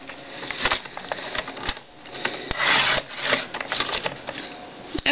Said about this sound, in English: I use my Stampin' Trimmer here, and I just go up to this last cut line here